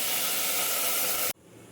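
Soaked rice hitting hot masala in a pan for khichdi, a loud steady sizzling hiss that cuts off abruptly near the end, leaving a low background hum.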